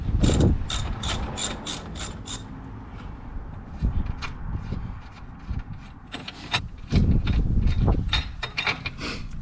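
A ratchet wrench clicks as it backs out the long strut brace bolts on a Toyota Supra MKV, with close, loud runs of rapid clicks in several bursts separated by short pauses and no talking.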